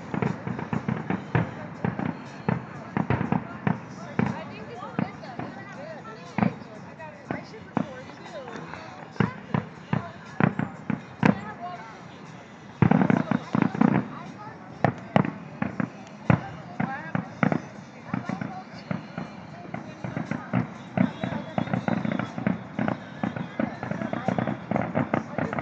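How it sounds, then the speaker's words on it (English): Fireworks set off at a housing project crackle and pop in rapid, dense volleys with occasional bigger booms, continuous over about twenty-five seconds, with people talking and shouting throughout. "Rapid explosions of little balls."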